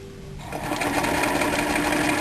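A sewing machine stitching elastic onto swimwear, starting up from a quieter hum into a steady, close, buzzing run of rapid stitches that continues without pause.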